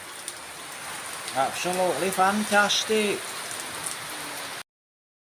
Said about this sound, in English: So that's just a lovely little bit of rain.